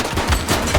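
A short, loud burst of gunfire in the police video game The Precinct, a couple of close, heavy reports packed into under a second with no talk over them.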